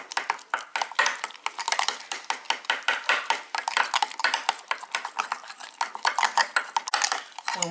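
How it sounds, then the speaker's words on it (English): A metal spoon stirs sourdough starter in a jar, producing a fast, steady run of close scraping clinks against the glass, with no talk over it. "let's give this a good stir"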